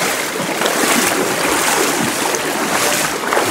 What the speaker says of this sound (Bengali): আপনারা নিশ্চয়ই শুনতে পাচ্ছেন ঝর্ণার শব্দ।